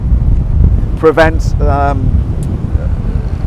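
Strong, steady wind buffets the microphone on a seaside coast beside a castle, a constant low rumble running throughout while someone speaks briefly in the middle.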